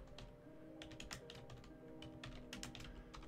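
Typing on a computer keyboard while filling in profile properties for receiving HL7 messages over TCP/IP, a quiet steady patter of key clicks in short bursts over a low background hum, with no talking.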